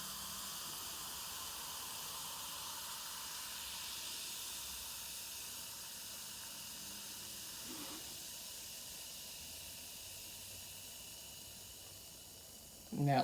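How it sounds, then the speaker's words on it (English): An Alka-Seltzer tablet fizzes in a glass of warm water, a faint, steady hiss that runs unbroken for several seconds before a brief louder knock at the end. "we're gonna wait till it actively stops fizzing"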